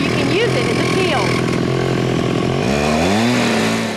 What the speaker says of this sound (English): Both the drill and the chainsaw are able to cut through concrete because of diamonds.